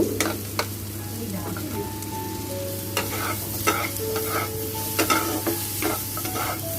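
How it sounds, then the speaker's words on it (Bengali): Boiled jackfruit seeds fry in a little oil in a kadai, a soft continuous sizzle broken by repeated spatula scrapes and clinks as they are stirred. "ওর মধ্যে যে অল্প পরিমাণে তেল ছিল তার মধ্যে আমরা সিদ্ধ করা কাঁঠালের দানাগুলোকে একটু ভাজা ভাজা করে নেব।"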